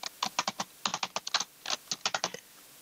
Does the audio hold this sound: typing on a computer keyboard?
yes